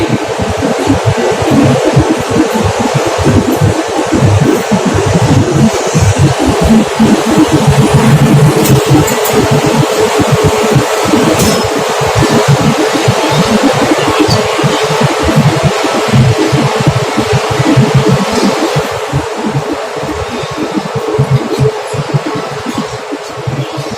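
Generator set running at a control panel, a loud steady engine drone with a continuous rumbling throb and fan-like hiss throughout, no pauses.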